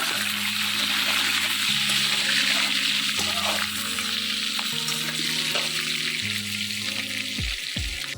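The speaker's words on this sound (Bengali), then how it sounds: "প্রথমে আলুগুলোকে ভালো করে ভেজে নিতে হবে।" Salted potatoes with five-spice frying in an iron pan over a wood-fired stove, a loud continuous sizzle with a low steady hum underneath and a few scraping knocks near the end.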